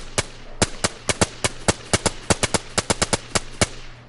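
Semi-auto gunfire in the game DayZ: around twenty sharp single shots, close and loud, fired one by one at a quick, slightly uneven pace.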